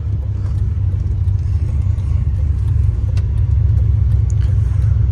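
An all-wheel-drive SRT4 car engine accelerates hard, a loud steady low rumble and engine drone heard from inside the car, with no talking.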